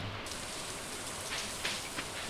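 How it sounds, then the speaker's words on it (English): Rain falling in the farming video game Stardew Valley, a dense, steady hiss of drops on surfaces that holds evenly from start to finish, with no one speaking. "It's raining."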